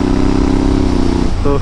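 A Honda Africa Twin DCT motorcycle runs with a loud, steady engine drone close by, and a brief tonal shift near the end as the dual-clutch gearbox changes gear.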